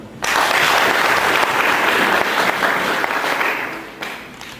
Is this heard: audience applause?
yes